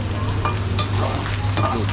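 Steady sizzling and frying with scraping stir strokes of a utensil as chicken and noodles are stir-fried in a wok over a charcoal stove at a street stall, close and continuous, with a low hum underneath.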